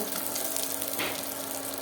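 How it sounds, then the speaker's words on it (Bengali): Bay leaf, cinnamon and cardamom frying in hot ghee as they are stirred, making a steady, close, continuous sizzle with no speech. "তেজপাতা দারুচিনি আর এলাচটা দিয়ে দিলাম দিয়ে এবার একটু ভাজা ভাজা করে নেড়ে নেব"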